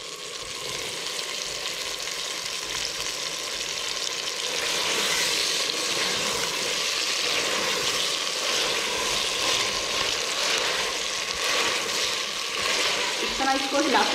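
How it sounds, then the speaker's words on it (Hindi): Cauliflower florets and cut potatoes frying in masala in a handi while being stirred, a loud continuous sizzle with scraping stir strokes throughout; a voice talks faintly in places. "इस तरह इसको हिलाते रहेंगे तो ये मसाले में मिक्स हो जाएगी।"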